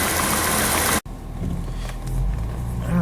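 A BMW E32 engine idles as it warms up after a cold start. A loud burst at first cuts off abruptly, then a steady low idle hum continues close by with no voices.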